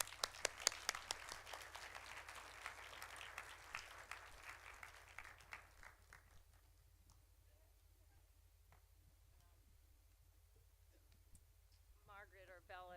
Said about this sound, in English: Please help me welcome Ms. Khan to the stage with a warm round of applause.